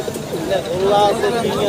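Pigeons at a busy weekly pigeon market in Fatullah, Narayanganj, cooing and calling close by over a steady murmur of crowd chatter.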